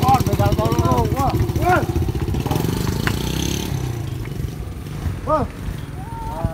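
A motorcycle engine chugs and idles in a Sundanese drama as the stolen motorbike rides away. It runs under excited shouting voices and fades after a few seconds, while talk continues.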